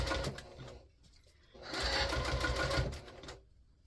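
A sewing machine stitches binding about an eighth of an inch from the edge of a small fabric basket, running in two bursts with a brief backstitch pause between them, close and fairly loud.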